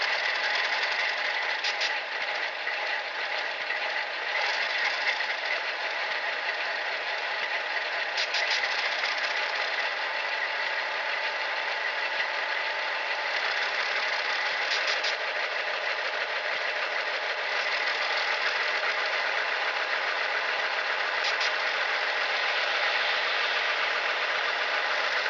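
An Atlas RS-3 model locomotive's sound decoder plays a diesel engine revving up through its notches, a steady throbbing drone with faint periodic knocking, continuous and moderately loud with no talking.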